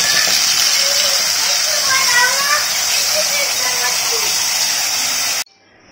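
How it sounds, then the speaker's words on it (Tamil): Freshly ground chili paste sautéing in hot oil for a quick chapati gravy, a loud steady sizzling hiss that runs throughout and cuts off abruptly near the end, with a person talking over it. "எண்ணெய் காஞ்சது டைரெக்டாக இதில் சேர்த்துட்டு பச்சை வாசம் போகிற வரைக்கும் வதக்க போகிறோம்"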